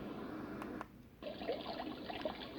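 A Dreamegg D3 portable white noise machine plays its brook sound. A steady, rushing babble of flowing water drops out briefly for a moment, then resumes at the same level.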